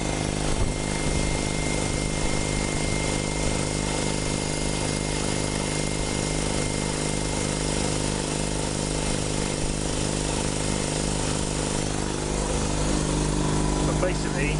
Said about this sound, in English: I've had this compressor for absolutely ages, and it's done me good.